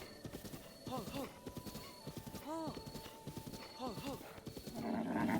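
Horse hooves clip-clop in a rhythmic gallop in the video game Zelda: Breath of the Wild, with several neighs and whinnies over the steady beat, under someone talking.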